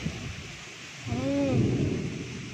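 A thunderstorm with rain and strong wind: a low roll of thunder swells in the middle and lingers under the steady wash of rain and gusts.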